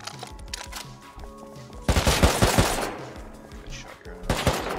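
Video game gunfire rattles in a fast, dense burst of automatic shots partway through. Quieter game noises come before it, and a short second volley follows at the end.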